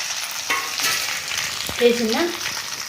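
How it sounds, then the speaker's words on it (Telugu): Mustard seeds, cumin and dried chillies tempering in hot oil give a steady, close crackling sizzle with a few sharper pops and spoon scrapes, and no talking over it. "జీలకర్ర వేసిన, ఇగో మిరపకాయలు వేసిన"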